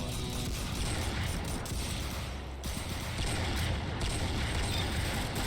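Kolibri cork pistol fire in the Roblox Arsenal game, a dense, loud barrage of overlapping gunshot pops with a heavy low rumble, running nearly continuously with one brief dip.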